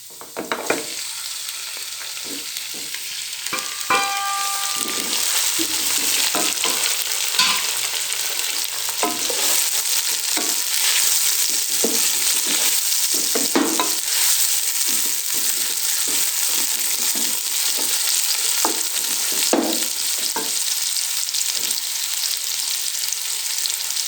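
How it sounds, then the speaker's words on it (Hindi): Steady, loud sizzling of tomatoes frying in a hot pan over fried garlic and ginger for chicken pulao, with occasional stirring scrapes and crackles throughout, no voices. "अभी इसके अंदर टमाटर डाल देंगे"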